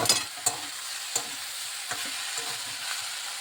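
Vegetables and potato with turmeric stirred in a frying pan, a few sharp spatula scrapes and knocks over a gentle, continuous sizzle, close by and without talk.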